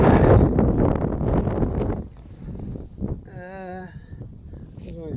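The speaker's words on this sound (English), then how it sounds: "you gotta try to get out of the wind" Strong wind rushes over a mountain summit on the trail between Devil Fork Gap and Erwin, Tennessee, a loud roaring buffet against the microphone for the first two seconds before easing to a lighter gusting, with a voice heard as the wind drops.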